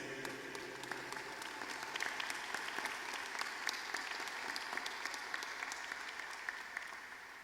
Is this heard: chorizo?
no